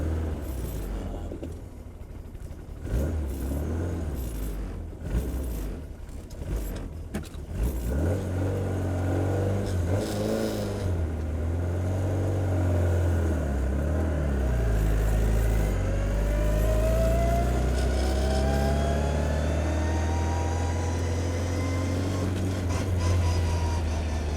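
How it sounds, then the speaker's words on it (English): A 1968 Austin Mini Cooper cafe racer drives along, its engine revving through gears with a rising whine from the straight-cut gearbox, loud and close inside the car with no talking. "Man, the straight cut gears. It's the best sound."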